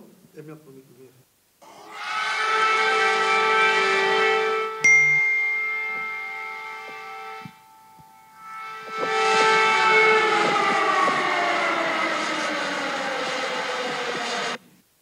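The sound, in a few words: air raid siren recorded in central Kyiv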